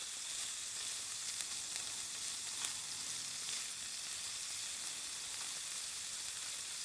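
Store-bought charcoal-grilled chicken warms on a hot plate, giving a soft, steady sizzle and crackle throughout, fairly quiet, with no talking.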